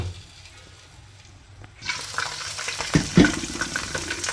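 Chopped onions hit a cup of hot oil for bhuna khichuri. After near-quiet, a loud, steady sizzle bursts in and keeps going, with a few utensil knocks partway through.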